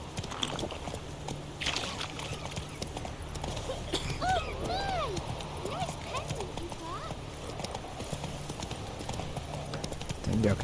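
Hooves of the horse Roach clip-clop steadily in The Witcher 3, with a whinny and swishing game effects over a constant background, while someone talks briefly in a game voice.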